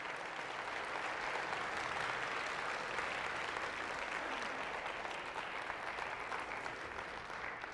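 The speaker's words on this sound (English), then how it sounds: "Would you give them a warm round of applause this morning?" A church congregation applauds warmly at a morning service, steady sustained clapping filling the room at an even level with no talk over it.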